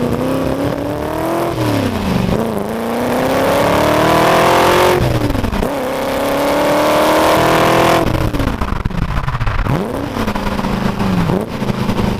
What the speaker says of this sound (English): so you get this real kind of classic, vintage, clack sound when you get on the throttle